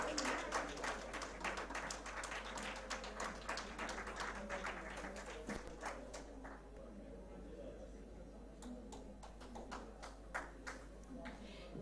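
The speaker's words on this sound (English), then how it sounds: "A huge round of applause once again." Scattered audience applause at an award ceremony during a sports and literature festival, fairly faint and distant, with individual claps thinning out midway and a low steady hum underneath.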